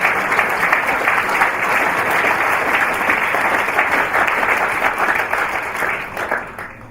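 Dense, sustained applause from a large conference audience at a vision conference, loud and continuous, tapering off in the last second.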